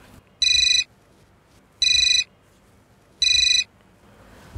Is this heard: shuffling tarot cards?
no